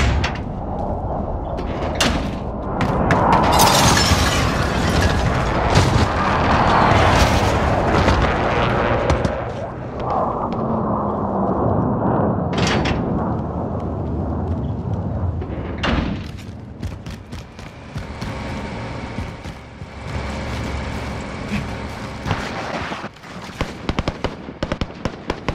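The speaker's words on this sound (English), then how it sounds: "Enemy precision airstrike," Precision airstrike explosions in the Call of Duty: Modern Warfare battle royale, a dense run of heavy booms and cracks over about fifteen seconds, loud and close, then fading into quieter rumbling and scattered distant noise.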